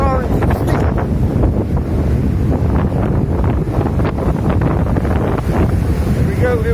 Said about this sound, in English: Breeze flying by, water, and waves coming from my nice orange stick.